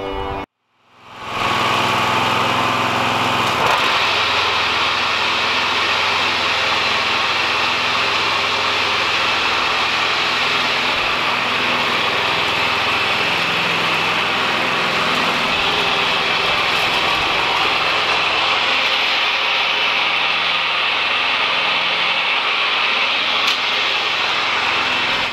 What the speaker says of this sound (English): you might be wondering why I've got a zero-turn lawnmower in a little bitty yard